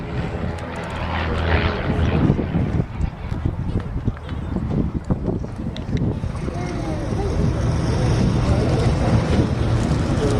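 Two light aircraft fly a close formation display at the Duxford airshow, their engine drone rising and falling over steady wind rumble, with commentary heard over the top.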